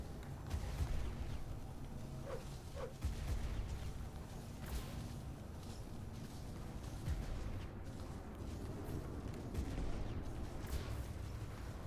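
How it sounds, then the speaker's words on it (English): Missiles strike a spaceship in a space combat game, a run of dull, muffled booms and rumbling impacts spread over several seconds under a steady engine-like drone. "Ouch, missiles."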